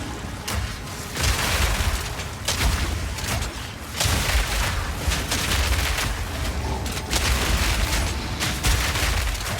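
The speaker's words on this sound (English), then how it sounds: "You let the grenades go, explode them." Grenade explosions in Path of Exile 2 pile up in rapid, loud bursts, a dense barrage of booms and blasts going off one after another with hardly a pause.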